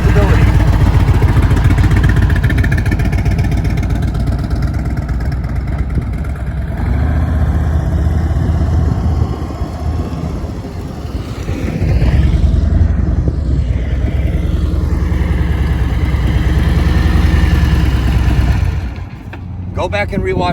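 A heavy cruiser motorcycle engine rumbles steadily at low speed through a slow U-turn, loud and close, with someone talking over it most of the time.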